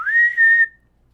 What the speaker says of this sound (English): The whistle of the Hogwarts Express blows